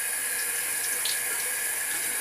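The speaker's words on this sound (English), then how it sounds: "And you have to rinse this at least 3 times to get the remaining concentrate out." Water at 72 degrees runs steadily as a rinse during black-and-white film processing, making a constant close hiss with no pauses.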